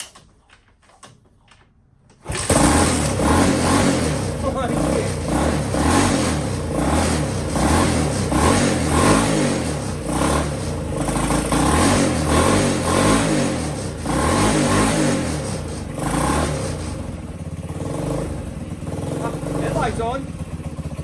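A Honda S65 motorcycle, revived after more than eight years unused, fires up after a brief quiet start and runs loudly and close, its engine revving and settling in uneven surges throughout.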